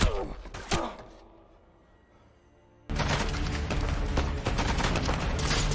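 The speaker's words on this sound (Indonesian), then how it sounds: "Mendengar suara tembakan dari luar" Sharp gunshots crack at the start of a film scene, a quiet pause follows, then a sustained loud barrage of rapid gunfire and chaotic action noise.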